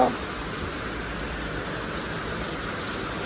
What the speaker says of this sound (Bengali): বাবু বৃষ্টি দেখো আসো বাবু শুয়ে বৃষ্টি দেখো